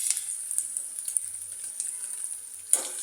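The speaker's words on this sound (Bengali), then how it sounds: "পেঁয়াজটা আরেকটু বাদামি করে ভাজবো।" Onions fry in a pan toward brown, giving a soft, continuous high sizzle with small crackles and a brief louder pop near the end.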